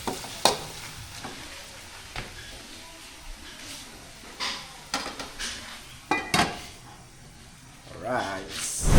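A spoon scrapes and stirs milkfish paksiw with pork fat in a pan, making intermittent clinks and scrapes over a soft simmering hiss while a person talks quietly.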